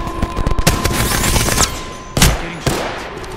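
Loud, close gunfire in Apex Legends, with rapid bursts of shots that run together into a dense volley, followed by two sharp, heavy blasts near the end.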